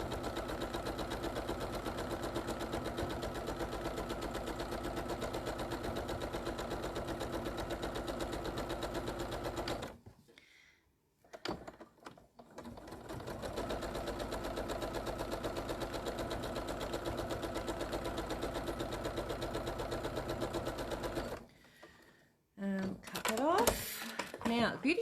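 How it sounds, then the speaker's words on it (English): Sewing machine stitching fabric pieces together for quilt panels, a fast steady mechanical whir running for about ten seconds, pausing, then running again for another stretch before stopping. "now we're going to sew it all together into one big piece of fabric again"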